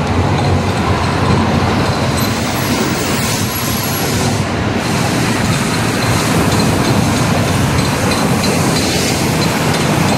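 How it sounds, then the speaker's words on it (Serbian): A train passes close by in a city, a loud continuous rumble with rhythmic clickety-clack of wheels over rail joints and a brief high squeal, filling the whole stretch without talk. "Voz."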